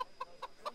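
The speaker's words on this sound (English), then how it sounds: "Scare the freaking chicken." Four quick, evenly spaced clucks from a chicken in Kingdom Come: Deliverance, close and moderately loud over a faint background hiss.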